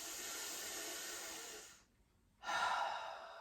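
Slow, deep breaths during a chair yoga break: a long breathy exhale, a short quiet pause, then a strong inhale, close and clearly audible.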